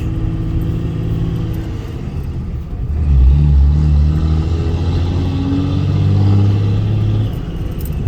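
A 2003 Ram 2500 with a 5.9 Cummins diesel and six-speed manual, towing about 12,000 pounds, gives a steady, loud low engine drone that rises in pitch and strength partway through, then eases, with continuous road rumble and no talk.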